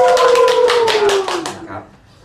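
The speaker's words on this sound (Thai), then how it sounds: "ขอเชิญปรบมือ" Applause from an audience at a Thai corporate giveaway event, a burst of many hands clapping for about a second and a half, then fading out quickly, with a voice talking over it.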